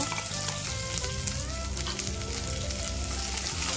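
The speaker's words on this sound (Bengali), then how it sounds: "ঘিটা গরম করে নিয়ে তারপর বাদামটা ঢেলে দেবো বাদামটা ভালো করে ব্রাউন কালার করে ভেজে তুলে নেব" Peanuts fry in hot ghee in a pan, making a continuous, close, crackling sizzle that holds steady the whole time.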